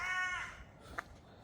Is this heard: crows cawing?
yes